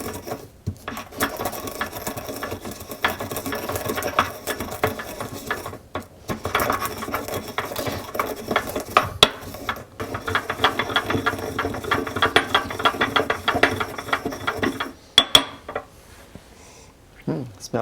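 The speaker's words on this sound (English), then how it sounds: "and with the pestle, grind them." Juniper berries and coriander seeds being ground with a mortar and pestle: continuous close gritty crunching and rhythmic scraping for a long stretch, ending in a few knocks, with little else.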